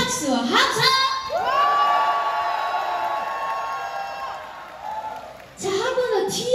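Outdoor audience at the Geumsan samgyetang festival clapping and shouting together, a loud swelling wave of applause mixed with sustained voices and cheers, dipping briefly before surging again near the end.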